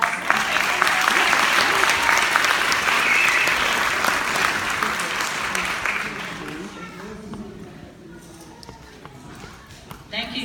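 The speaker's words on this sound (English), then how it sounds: "Give them a round of applause." Audience at a 2017 high school graduation ceremony breaks into dense applause that holds strong for about six seconds, then thins into scattered claps, shuffling and murmuring voices, with a few late claps at the end.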